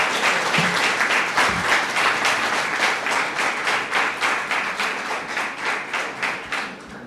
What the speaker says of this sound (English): So we can applaud that again.